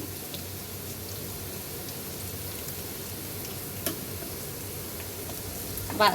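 Chopped onion and garlic fry and get stirred in hot oil for a dal tempering. A dense, continuous sizzle crackles throughout, with a faint utensil tap midway and a louder scrape right at the end.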